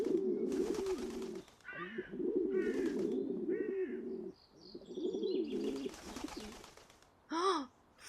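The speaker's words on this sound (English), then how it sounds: "What kind of pigeons are you?" Pigeons coo repeatedly in a video game, their soft warbling rolls running almost continuously, with a few brief higher chirps and bursts of noise breaking in between.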